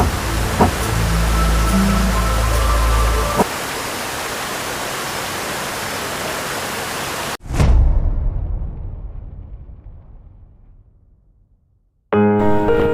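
Bisay Waterfalls in Barangay Marikit roars as a dense, loud, steady rush of falling water, then abruptly cuts, fades away into silence, and returns suddenly at the end.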